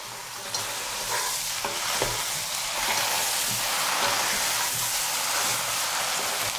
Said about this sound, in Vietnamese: mình mở bếp trở lại và xào cho lòng săn ha, cho thấm hỗn hợp gia vị